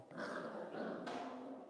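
A mini goldendoodle puppy about seven weeks old growls low and close in one short, rough, continuous rumble that swells and eases over a second or two.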